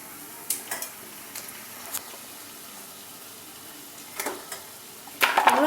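Chopped tomato stirred into cooked onions frying in a pan for tawa pizza sauce, with sparse, faint scrapes and soft sizzling, then a louder burst of stirring near the end.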